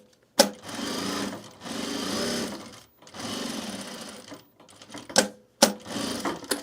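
A sewing machine stitches across the ends of a self-drafted bag in several short bursts, loud and close, separated by brief pauses and sharp clicks.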